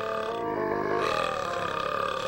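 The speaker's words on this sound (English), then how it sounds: "Stacking two burp sounds on top of each other is too funny." Two burp sound effects stacked together in the video game Not For Broadcast, a loud, long, deep belch with a growling rasp, heard alone without talk.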